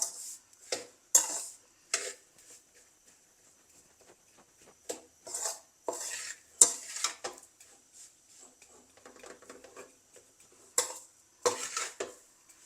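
An egg and flour mixture is roasted and stirred in a pan, Sri Lankan style. Irregular metallic scrapes and clinks of a spoon against the pan come in short bursts with quiet gaps, close and fairly faint, with no talk.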